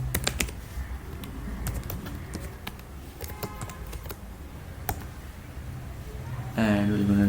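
Quick bursts of clicking keystrokes on a computer keyboard while writing code, close and fairly quiet, with a voice speaking near the end.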